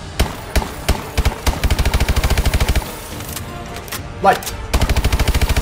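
Rapid bursts of gunfire from a weapon in a video game, with repeated automatic volleys that pause and then resume, a brief voice heard between them.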